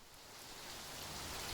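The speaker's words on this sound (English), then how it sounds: "Suddenly, the rain intensified," Steady rain falls with a dense hiss of drops, soft and even, building slightly over a brief stretch with no other sounds.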